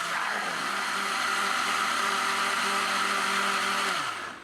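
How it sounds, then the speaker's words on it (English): Countertop blender whirring through a lemon, cucumber and mint smoothie, a loud close motor drone that holds steady for about four seconds, then winds down at the end. "So we just blend that up."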